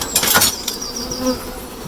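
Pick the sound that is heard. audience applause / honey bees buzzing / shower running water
honey bees buzzing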